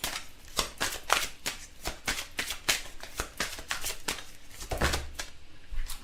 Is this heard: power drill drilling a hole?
no